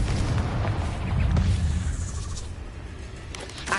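Confringo spell blast in the Hogwarts Legacy video game, a loud, heavy booming explosion with a deep rumbling roar that fills the whole moment and slowly thins out.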